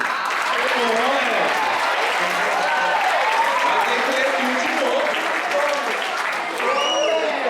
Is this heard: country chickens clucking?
no